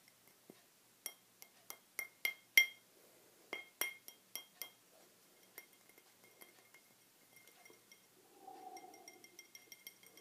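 Glass objects clink together in a quiet room, a run of sharp bright taps in quick irregular clusters, loud and close, thinning to lighter ticks with a brief soft rustle near the end.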